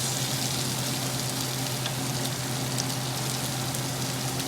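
Garlic frying in a pan gives a constant loud sizzle with a crackling hiss that never lets up, close and with no voices over it.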